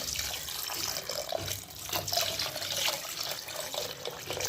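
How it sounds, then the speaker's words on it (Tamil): Steady running water splashing and pouring into a cooking pot for mutton dalcha, a continuous broadband rush with slight fluctuations, fairly close. "இப்போ இதற்கு தேவையான அளவு தண்ணி சேர்த்துக்குவோம்"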